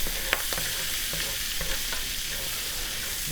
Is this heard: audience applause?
no